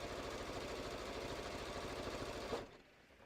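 Sewing machine running a triple zigzag stitch on bucket hat fabric, a steady rhythmic chatter for a few seconds that stops abruptly, close and fairly quiet.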